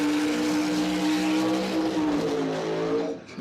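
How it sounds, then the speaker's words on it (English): Drag racing car doing a long, smoky burnout on slicks at Cordova Dragway, a loud sustained engine howl with tire squeal, steady and near before trailing off at the end. "Love hanging out those long, smoky burnouts"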